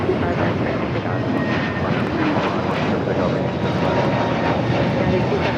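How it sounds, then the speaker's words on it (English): A Delta Airlines A321neo jet takes off from runway 25 right at Los Angeles International Airport, a loud continuous broadband engine roar that holds steady throughout, with faint radio chatter in the background. "That is Delta Airlines 867 taking off to Orlando, Florida on the A321neo."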